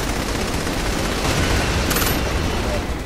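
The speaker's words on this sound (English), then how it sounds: "I threw a bomb just to say, yo," A thrown bomb going off in Saints Row The Third, a dense, loud, sustained roar of blast and crackling debris filling the whole moment.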